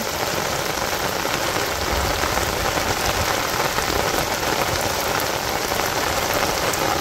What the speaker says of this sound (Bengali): কত সুন্দর বৃষ্টি হয়েছে